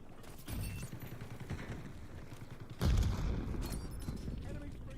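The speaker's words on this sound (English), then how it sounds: "Concussion grenade out." Concussion grenade exploding in a video game, a heavy boom partway through amid ongoing battle noise and scattered gunfire, with a player's voice talking over the action.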